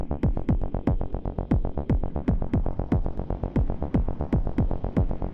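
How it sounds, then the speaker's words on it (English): Processed sound from an Afterneath Eurorack module with a frequency shifter in the feedback path repeats in fast, evenly spaced sweeping pulses, giving a rhythmic phasing, throbbing texture with no voices. "that cool phasing kind of sound you're hearing is the frequency shifter in the feedback path"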